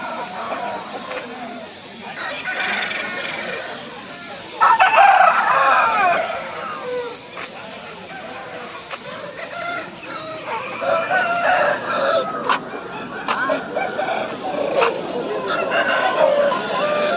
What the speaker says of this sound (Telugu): ఇది వచ్చేసి గాజు పుంజు